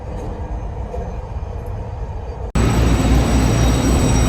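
A Taiwan train arriving at Chiayi station, a continuous rail rumble that jumps abruptly to a louder, denser roar partway through, with no talking.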